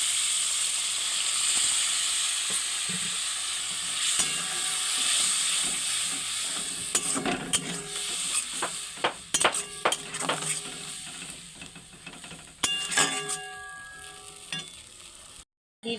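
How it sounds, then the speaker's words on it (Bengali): Spices for a country chicken and potato curry sizzle steadily in a hot pan as a little water is added, with stirring scrapes and sharp crackles bursting through mid-clip before a sudden cutoff. "এবার মশলা কষানোর জন্য অল্প পরিমাণে জল দিয়ে দিচ্ছি।"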